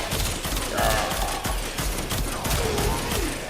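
The Panthera weapon in the video game Warframe fires buzzsaw blades in a rapid rattling burst of sharp repeated shots with metallic whirring, loud and continuous with no talk.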